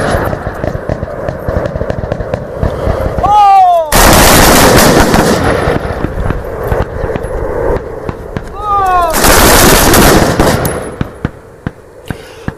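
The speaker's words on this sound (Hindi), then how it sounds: "जब मनीष फील्ड के अंदर पहुंचे तो चारों तरफ गोलियों की आवाज सुनाई दे रही है।" Afghan army commandos at target practice, with loud bursts of rapid gunfire at two points and sporadic shots in between, under steady voiceover narration.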